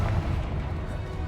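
A Confringo blast spell in Hogwarts Legacy detonates as a loud, deep booming explosion with a rumbling low-end body, filling the whole short moment without pause.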